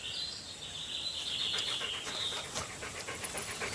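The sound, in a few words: dogs panting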